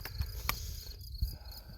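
Crickets chirp in a quiet mountain setting, a faint, thin steady trill with a few soft low thumps like footsteps, no voices.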